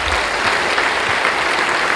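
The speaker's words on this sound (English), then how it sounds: "Let's give them a round of applause." Loud, dense applause from a large audience after a Bitcoin mining panel at the Texas Blockchain Summit, a continuous roar of many hands clapping at close range with no talking.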